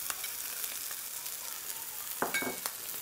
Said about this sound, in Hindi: इसको 1 मिनट के लिए सौते करेंगे